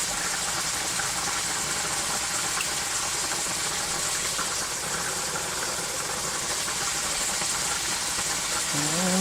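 A quarter stick of butter melting in a pan for Greek shrimp pasta, giving a steady, even sizzle and hiss close by that holds throughout with no talking.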